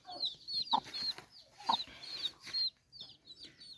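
Dwarf chickens cluck close by in a steady, chattering series of short calls with high chirps mixed in, loud and clear over a quiet farmyard.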